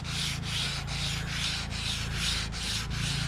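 A sanding block rubbed back and forth over a carbon fiber car hood during wet sanding with 400-grit paper: a steady, close, rasping swish in an even rhythm of about eight strokes, with no voices.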